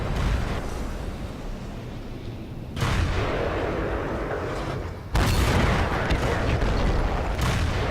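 Tank cannon shots and explosions in the video game World of Tanks, loud booming blasts at intervals over continuous rumbling battle noise, with faint talk underneath.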